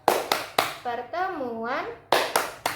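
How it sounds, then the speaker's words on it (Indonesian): A group claps in a rhythmic chant pattern during a P2K2 family-development session: sharp sets of hand claps open and close the passage, and a woman's sung or drawn-out voice carries the chant between them. "kita tepuk P2K2 dulu yuk"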